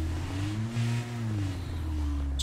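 Video game car engine while driving during a zombie escape, a steady mid-pitched hum that rises and falls slightly as the car turns, continuous and fairly close with no talk.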